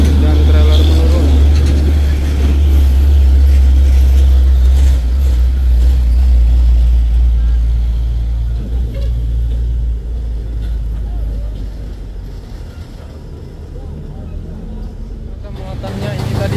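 Heavy trailer truck rolling downhill on a hill road, its engine a loud deep rumble that stays close and steady before easing off somewhat, with someone talking over it.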